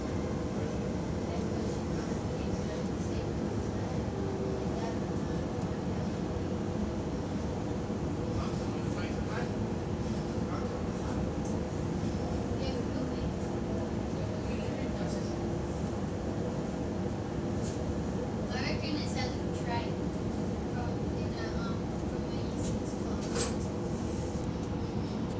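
Interior of a moving passenger train between stations on a run from Thirroul to Coniston, with a steady low rumble and hum under a voice speaking, and faint higher squeaks from time to time.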